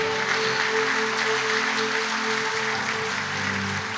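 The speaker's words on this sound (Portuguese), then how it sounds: "Alguém pode aplaudir Jesus aí" A church congregation applauds during a sermon, producing steady, dense clapping throughout with a sustained musical tone underneath.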